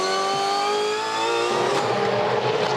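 A 2015 V8 Supercar race engine at the Phillip Island SuperSprint screams loud and close. Dense harmonics climb steadily through the gears, then give way midway to a rougher, noisier roar, with no talk over it.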